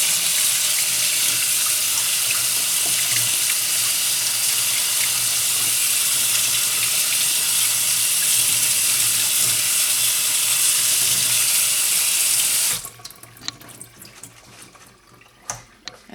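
Beans are rinsed under a running kitchen tap, a loud, steady rush of water close by that cuts off abruptly near the end and leaves faint handling clatter, with no talking.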